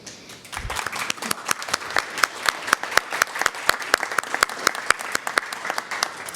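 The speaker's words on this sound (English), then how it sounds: "give you a round of applause for your service and all of the things you do for our community" A breakfast crowd at a human rights awards ceremony applauds elected officials, a sparse, rhythmic clapping of many hands with sharp individual claps standing out, moderately loud and continuous throughout.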